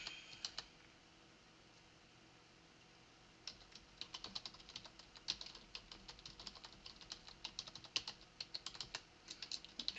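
Typing on a computer keyboard, starting after a quiet pause and continuing as a rapid, irregular run of close, crisp key clicks with no talking.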